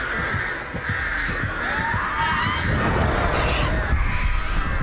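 Crows cawing in the video game Dead by Daylight, a steady stream of harsh caws layered over continuous game ambience and rapid low thumps, loud and close throughout with no talking.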